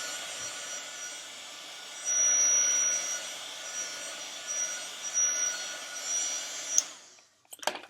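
A heat tool blows steadily to dry Distress Oxide ink on paper, a fairly faint continuous whooshing hum that shifts slightly in strength and cuts off near the end.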